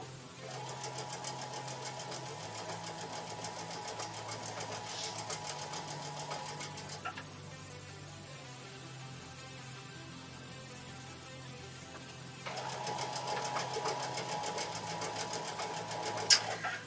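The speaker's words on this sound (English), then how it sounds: "I've got the machine set at about a medium speed." Sewing machine stitching a quilt at medium speed, a steady rapid mechanical hum running for several seconds, pausing briefly, then resuming, moderately quiet and close with no talking.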